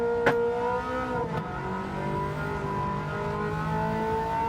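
Loud, close engine roar from a 1980s production race car on the Goodwood circuit, rising through the revs in sustained, layered tones with a couple of sharp crackles near the start.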